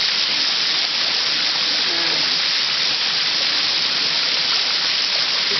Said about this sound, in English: Just kind of sitting here listening to the creek.